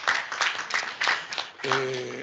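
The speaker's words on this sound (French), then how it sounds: "Je crois que ça mérite applaudissement." Applause from an audience at a lawyers' continuing-education training event in Rwanda, a steady broadband patter of clapping lasting throughout, with a sustained tonal hum entering near the end.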